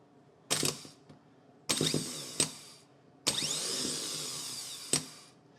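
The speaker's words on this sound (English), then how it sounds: "as soon as we ground this, we should get the starter activated" A car starter motor on a bench, set off by grounding its solenoid, whirs up loudly in three separate bursts. The last burst spins longest, and each one ends with a sharp clack as the drive kicks out and back.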